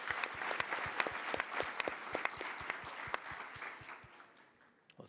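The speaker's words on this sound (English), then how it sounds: "Give Alex a round of applause." Tech conference audience applauding a startup presenter, with many distinct, crisp individual claps forming a moderate round of applause that thins out and fades toward the end.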